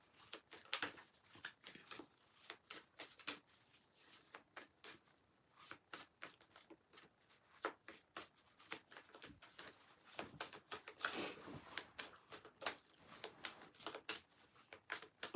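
A deck of cards shuffled at length during a live card reading, soft riffling bursts and flicks repeating irregularly, quiet and close with no talking.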